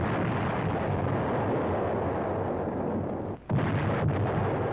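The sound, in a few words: 155 mm artillery gun firing shells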